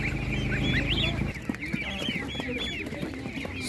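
Several domestic chickens cluck and chatter together close by at a Ukrainian animal market, with a low steady hum underneath.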